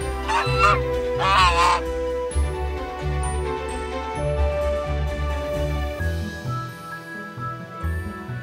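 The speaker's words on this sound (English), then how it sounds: "Goose." A goose honks in a series of loud, nasal calls near the start, followed by a bright, tinkling musical backing with a steady beat.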